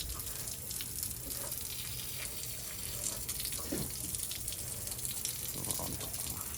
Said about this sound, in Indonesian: Ini juga kita siram, nanti kita bersihkan.